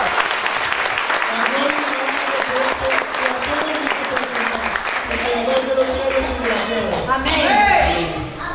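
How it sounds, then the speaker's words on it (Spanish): Loud applause from a congregation at a special Spanish-language church service, a dense, continuous clapping with shouting and cheering voices mixed in, swelling louder near the end. "Den un fuerte aplauso al Señor Jesús"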